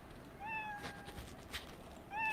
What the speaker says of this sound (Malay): Dia bunyi kucing.